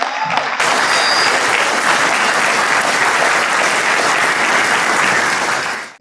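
Loud, sustained applause from a room of supporters at a congressional campaign fundraiser with the Albanian-American community, a dense wash of clapping that starts abruptly and fades out at the end.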